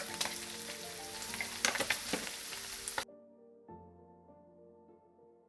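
Meat for a Balkan meze fries in a steel pan with a dense, close sizzle and a few crackling bursts for about three seconds, then cuts abruptly to a quiet, faint hum.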